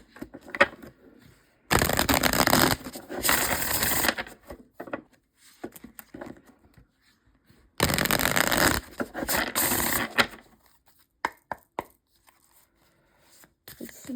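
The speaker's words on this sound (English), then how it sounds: "I'm going to try shuffling these again." Tarot cards being shuffled by hand in two long bursts of close, crisp riffling and rustling, separated by quiet gaps with light handling noises and no speech.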